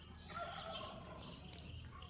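A fighting rooster gives a few throaty, warbling calls close by, short and somewhat muffled, with faint background noise and no talking.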